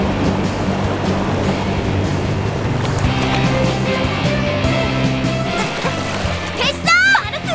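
Ocean surf washing steadily in an animated surfing scene, a continuous loud wash of waves with music and bright sound effects layered on top, rising into a busier burst near the end.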